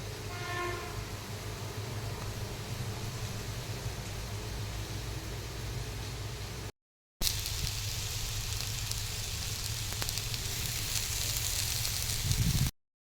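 Fish pieces drop into fried onion paste for a tamarind fish curry (chepala pulusu), giving a loud, steady hissing sizzle that cuts out briefly, then resumes just as strong before stopping.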